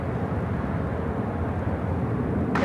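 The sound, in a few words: United Airlines Boeing 787-8 Dreamliner taking off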